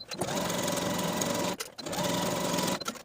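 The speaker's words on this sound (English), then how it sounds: "Take it to your sewing machine and sew with a 3/8 inch seam allowance from top to bottom." A sewing machine stitches a pant inseam with a 3/8 inch seam allowance, two steady whirring runs close up with a brief pause between them.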